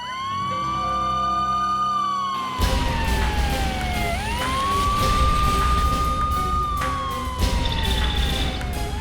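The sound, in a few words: fire brigade siren approaching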